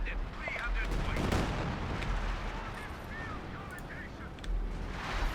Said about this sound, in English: So artillery sowing this region.